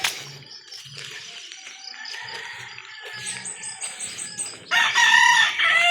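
A fighting rooster crows loudly near the end, over a steady background of chirping insects and faint clucking on a farm.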